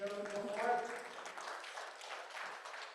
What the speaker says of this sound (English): give Rahaf a big round of applause